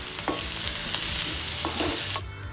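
Onions sauté in hot oil with a bright, continuous sizzle, broken by a few scraping strokes of a spoon, before the sound cuts off abruptly near the end.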